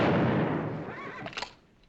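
A gunshot in a 1963 western film rings out as a loud, broad blast that fades over about a second into a dwindling echo, with faint scattered sounds after it.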